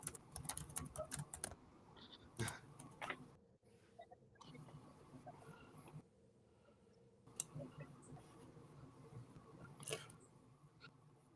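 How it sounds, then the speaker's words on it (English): Bursts of keyboard typing, close and clicky, come in irregular clusters separated by quieter stretches with faint background noise; no one speaks. "Now he's typing."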